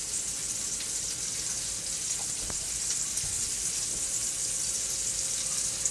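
Sausage and rice sizzling in a pan, a steady even hiss of frying throughout with a couple of faint utensil taps, moderately close and without talking.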